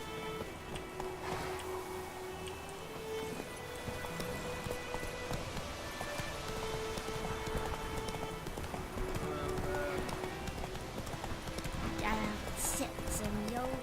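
Steady clip-clop of horse hooves runs throughout over a dense, busy soundscape from The Witcher 3: Wild Hunt with music-like tones and voices, fairly loud and continuous.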